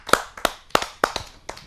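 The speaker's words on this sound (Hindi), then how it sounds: "मैं चाहता हूं कि उनका एक ज़ोरदार तालियों से हम सब स्वागत करेंगे।" Audience at a Hindi poetry gathering, a kavi sammelan, giving sparse, uneven claps in a quick irregular run of about seven sharp hits, moderately close.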